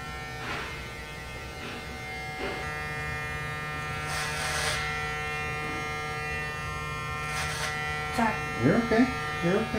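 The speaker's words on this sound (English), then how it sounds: "Just hold on to that clipper, don't drop it." Electric hair clippers run at a close, steady buzz while cutting an adult's hair to the scalp, with short bursts of louder clipping and people talking over the hum.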